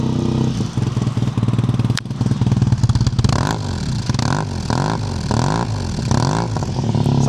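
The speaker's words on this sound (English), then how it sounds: "It sounds really nice with that exhaust." A custom-built 1990 Yamaha Super Ténéré 750 motorcycle with an aftermarket exhaust idles with a steady low rumble, then revs up and down in a series of rhythmic bursts, close by.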